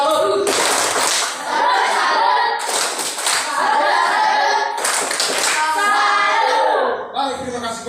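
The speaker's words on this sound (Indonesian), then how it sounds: "Tepuk tangan untuk kelasnya." Schoolchildren in a classroom clap their hands together in several rhythmic bursts, loud and close, with a few brief pauses and children's voices mixed in between.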